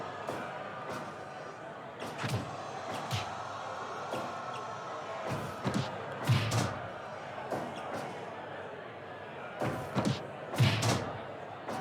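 Heavy body slams and suplex thuds from a wrestling video game land as irregular loud impacts, some in quick pairs, beneath steady commentary talk.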